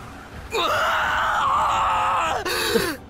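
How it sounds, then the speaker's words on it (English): A girl's sustained, loud scream in the video game Sorcery Jokers, drawn out for about two seconds, then a short second cry after a brief break. "This is a proper girl scream."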